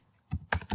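A few quick keystrokes on a computer keyboard entering an IP address, three short close taps in under a second.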